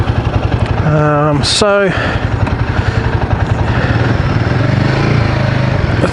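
A Royal Enfield Guerrilla 450 motorcycle's 450 engine idles with a steady, close, thumping pulse, while someone speaks briefly over it near the start.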